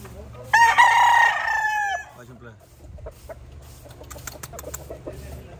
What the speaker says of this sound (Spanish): Aquí llegaron los gallos